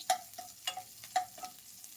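A chopped onion fries in a pan at home, giving a faint low sizzle punctuated by four or five sharp scraping stirs spaced roughly half a second apart, with no talking.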